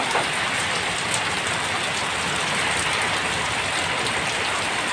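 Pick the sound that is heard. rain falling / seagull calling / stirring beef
rain falling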